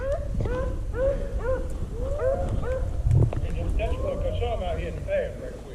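Several rabbit-hunting dogs bay and yip in quick repeated bursts at moderate distance, their cries overlapping in an outdoor setting while people talk over them.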